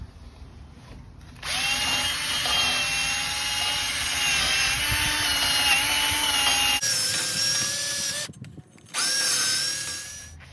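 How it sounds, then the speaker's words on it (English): A wire brush on a power drill scours a rusty rear brake hub on a 2013 Dodge Grand Caravan. It makes a loud, steady high-pitched whirring grind that stops briefly twice, then runs again. "we're going to use this wire brush to clean up this part so that it has a nice smooth metal finish"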